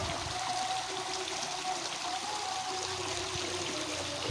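River water flows steadily in the middle of the river near a dam, a continuous rushing wash with a faint low hum underneath and no speech.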